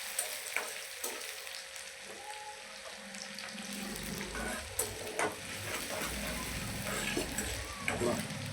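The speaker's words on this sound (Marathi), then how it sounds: "आता यामध्ये आपण मिरची टाकणार, कांदा टाकणार, यानंतर असं थोडं परतून घ्यायचं आपल्याला" Chili and onion sautéing in a pan for besan zunka, a steady close sizzle with intermittent scraping and clicks that thickens into a fuller frying hiss partway through.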